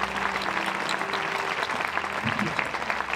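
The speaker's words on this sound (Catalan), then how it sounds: "Saludem, i aquest fort aplaudiment, a la Neus Figueres Roca" Strong, dense applause from an audience at a 2022 town festival proclamation in Santa Coloma de Queralt fills the whole stretch, loud and sustained, with no break.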